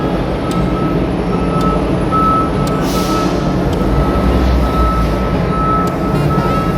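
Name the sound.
big trucks driving off a ferry's lower deck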